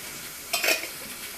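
Italian sausage browning in a pan, heard as a soft sizzle with a brief burst of stirring or scraping in the middle, fairly quiet and with no talk.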